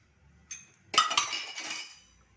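Jaggery dropped into a vessel of cooked toor dal for obbattu: a light clink, then a louder burst of clattering and scraping against the pot that fades after about a second, with no talk.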